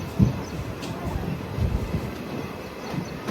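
A train pulls away from Gubbi railway station, giving off a low, uneven rumble with a few soft thumps at moderate distance.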